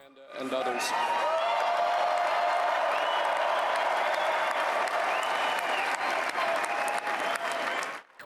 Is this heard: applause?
yes